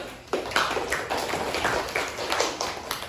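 Students in a classroom clap their hands for a group that has just presented, a dense, brief round of many overlapping claps, fairly close and steady throughout with no voices on top.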